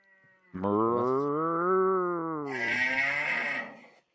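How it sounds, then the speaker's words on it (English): A cow lets out a long, loud moo, close and drawn out over several seconds, ending in a rougher, breathy tail. "Have you actually got a cow in the fucking room with you today, Joe?"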